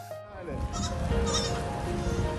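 Goats, four of them with tangled harnesses, bleating in quick, wavering cries close by, one call running into the next over a light background.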